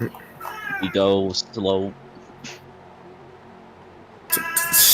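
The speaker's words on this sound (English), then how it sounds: "I'm sorry, that's my cat." A pet cat meows twice close by, two clear drawn-out calls in quick succession, then a third louder meow at the end; a voice speaks briefly between them.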